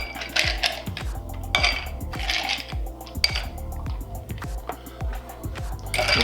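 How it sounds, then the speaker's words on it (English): Ice cubes clatter and clink into a glass already holding Whistle Pig rye whiskey for a rye old fashioned, a run of sharp knocks and rattles spread across the clip, close and fairly loud with no talking. "I'm just gonna add some ice."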